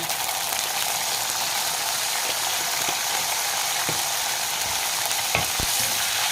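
Spices fry in hot oil for vetha kuzhambu after a sprinkle of water, giving a steady close sizzle with a few distinct crackling pops toward the end.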